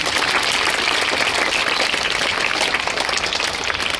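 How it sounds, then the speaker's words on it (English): Applause for a student at a school morning assembly: a dense, steady crowd clapping sustained evenly throughout, fairly loud, with no talking heard. "so please clap for him also"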